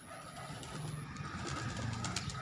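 A pigeon coos softly in the background over a steady outdoor hum, no talking.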